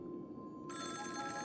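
A phone rings in the video game Honkai Star Rail, a short electronic ringing tone that swells in brightness partway through, heard alone over a low background hum.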